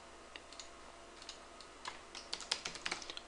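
Quick, light keystrokes on a computer keyboard while code is entered for a Construct 2 game tutorial, soft clicks that grow denser and louder toward the end.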